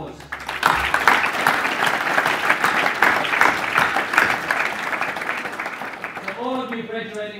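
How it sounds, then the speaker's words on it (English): A graduation ceremony audience applauds certificate students with sustained, loud, dense clapping for about six seconds, then it fades as a voice begins speaking. "Ladies and gentlemen, let's give our certificate students a round of applause."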